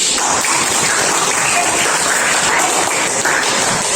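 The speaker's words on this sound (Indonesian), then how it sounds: "tepuk tangan dulu" Students in a classroom lesson clap together, a thick, steady hiss of applause that holds at an even level throughout without pauses or voices.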